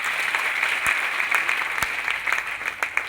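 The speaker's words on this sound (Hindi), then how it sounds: "एक जोरदार ताली आप सभी लोगों के लिए।" Indoor audience applause at a financial freedom seminar, a steady wash of many hands clapping close by with a few sharper claps standing out.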